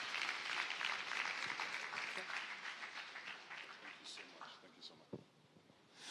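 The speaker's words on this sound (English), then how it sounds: "another round of applause for Eniola Lahomi" Audience at an autism conference breaks into dense, sustained applause that gradually thins and fades toward the end, with a few scattered claps and faint murmurs in the room.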